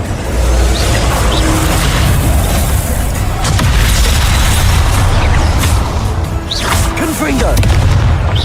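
Fiery Incendio spell blasts in Hogwarts Legacy, a steady roar of booming bursts and crackling magic over dense game noise, loud and continuous, with a player's voice speaking faintly at times.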